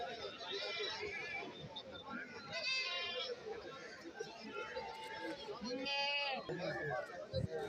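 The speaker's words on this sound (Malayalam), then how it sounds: "കറവയാടാണ് കൊണ്ടുപോകുന്നത്. നല്ല പാലുള്ള ആടെന്നാണ് പറഞ്ഞത്." Goats bleat at a busy goat market in Kerala, with several wavering cries at moderate distance rising over steady crowd chatter, while someone talks nearby.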